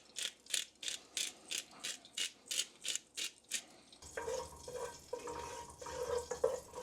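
Black pepper is cracked from a grinder into a pan in about ten quick, evenly spaced ratcheting bursts, close and crisp, before switching to a softer, steady sizzle of the reducing pan with faint clinks.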